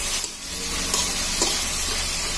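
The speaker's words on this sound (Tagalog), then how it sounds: "Igisa natin maigi ang ating tokwa." Tofu frying in a pan with onion for pancit palabok gives a steady loud sizzle, close and continuous, broken by a few faint scraping stir sounds, with no talking.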